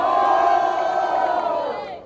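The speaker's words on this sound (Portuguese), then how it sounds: "Barulho, quem gostou das rimas de Gomes?" A crowd roars and cheers at a Brazilian street rap battle, a loud, dense wall of voices that holds steady and then slowly fades out over about two seconds.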